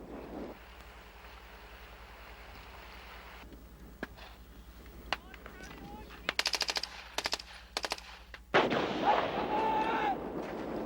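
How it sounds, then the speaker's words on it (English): Gunfire during commando training across open terrain: a few isolated sharp cracks, then clusters of rapid shots, followed by a loud sustained roar of noise, heard from a distance over a low background rumble. "Once the sniper opens fire"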